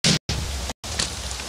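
Steady hiss of rain in the Minecraft video game, broken by two short gaps of silence, a continuous even wash of noise with no voices.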